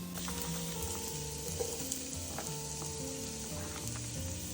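Sliced onions sizzle steadily in a non-stick pot on the stove, a dense continuous frying hiss with a few faint clinks of stirring throughout.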